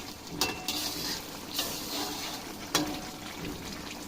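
Chicken gravy spices sautéing in a wok over high heat, with a steady sizzle throughout and a few sharp scraping stirs; there is no talking.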